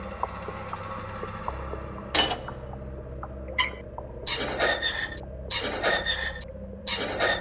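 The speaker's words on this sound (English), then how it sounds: "we can use the wrench on this" A wrench working a bolt loose in the puzzle game Doors Paradox, heard as several short metallic rasping, scraping bursts, close and fairly loud, in a clustered uneven rhythm over a quiet game hum.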